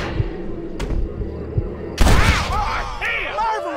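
Gunshots in the Wild West game Red Dead Redemption: a few dull thumps are followed by a loud, sharp blast and a ringing, echoing tail, with a voice speaking over the later part.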